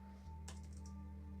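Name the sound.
typing timeframe numbers on a computer keyboard in TradingView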